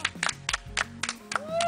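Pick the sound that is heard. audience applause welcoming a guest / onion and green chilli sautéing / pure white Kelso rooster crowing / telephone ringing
audience applause welcoming a guest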